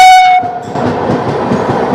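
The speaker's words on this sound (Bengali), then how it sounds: "একেবারে সঠিক সময়ে ট্রেন ছেড়ে দিল।" A passenger train pulls out of a Kolkata station, its horn blaring loud and close for a moment before giving way to the steady rumble and clatter of the wagons rolling along the track.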